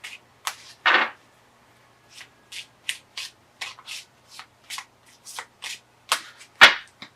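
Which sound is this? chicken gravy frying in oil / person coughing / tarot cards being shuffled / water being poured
tarot cards being shuffled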